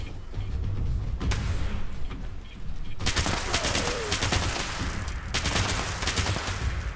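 Dense bursts of rapid gunfire from a weapon in the game Fallout 76, loud and close, come in sustained volleys with brief pauses between them.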